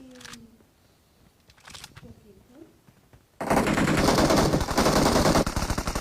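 Loud, sustained burst of automatic gunfire in the mobile battle-royale game PUBG Mobile, erupting suddenly after quiet moments with faint talk and continuing densely to the end.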